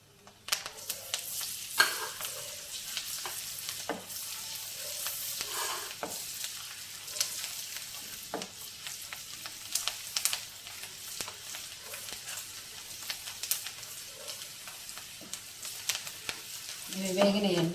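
Finely chopped garlic, ginger and green chillies frying in a pan, a soft continuous sizzle with crackles and occasional stirring scrapes, quiet and close, with a brief bit of talking near the end.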